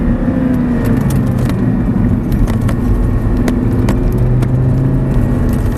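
Audi R8 engine on a driving course under hard braking and downshifts, heard from inside the car as a loud, constant low roar and whir with a few faint clicks.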